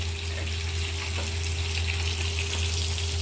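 Fish fries in hot oil in a pan, a close, steady sizzle and bubbling hiss running without a break, with no voices.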